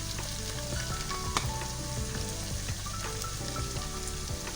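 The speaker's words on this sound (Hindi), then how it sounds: "इसको हल्का सा हम फ्राई करेंगे 30 सेकंड तक। लहसुन अदरक हमारा फ्राई हो चुका है।" Garlic and ginger fry in a hot pan as the base for beef paya, giving a continuous, close crackling sizzle with fine spatters and no voices.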